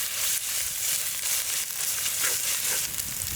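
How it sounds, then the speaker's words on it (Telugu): Ginger garlic paste fries in a pan for a mutton curry, giving a steady bright hiss of close sizzling with no speech. "ఈ అల్లం వెల్లుల్లి పేస్ట్ పచ్చివాసన పోయే వరకు బాగా వేయించుకోవాలి"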